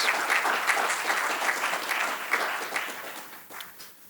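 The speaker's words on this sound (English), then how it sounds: "Please give everyone a round of applause." Audience at a society board meeting applauds the standing board members with steady, dense clapping that stays loud throughout, then gradually thins and fades toward the end.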